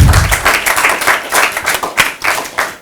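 Audience applause at a gathering: a few people clapping close by in uneven bursts, loud and sparse, without a full crowd roar.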